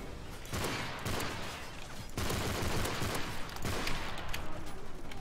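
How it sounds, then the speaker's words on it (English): Dense, continuous gunfire from the Modern Warfare 3 video game, rapid shots crackling in heavy bursts that swell and pause briefly, loud and close throughout without talk. "Oh, they're shooting me like crazy, though."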